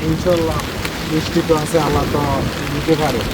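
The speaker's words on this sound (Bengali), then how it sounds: "বৃষ্টিও হচ্ছে আর বৃষ্টির মধ্যে আমরা এখন খালে অবস্থান করতেছি" Rain hisses steadily on a canal at night while people fishing talk nearby, the wash of drops continuous beneath their voices.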